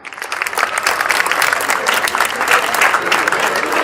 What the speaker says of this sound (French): Quand je dis applaudissements, je veux des salves d'applaudissements,